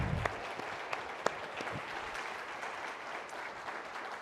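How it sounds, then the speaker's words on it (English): Audience applause for Carol at an academic forum in Hong Kong, a steady wash of clapping from a large room with a few sharper individual claps standing out, sustained evenly throughout without speech. "One more round of applause for Carol."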